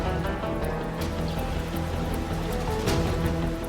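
Steady rain falls in a broad, continuous patter, with scattered sharper drops pinging on a surface and a faint tonal hum running underneath.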